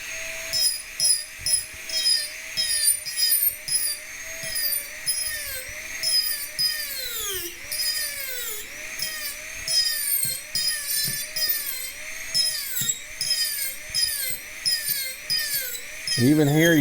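A Mastercarver Micro-Pro power carver cuts into wood with a high, whining buzz that rises and dips in pitch as the bit bites and eases, close up and continuous.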